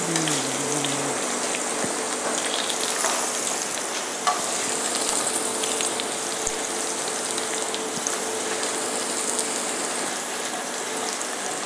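Potatoes sautéing in butter in a pan, a loud, dense, steady sizzle heard up close throughout, with a few small pops and no talking.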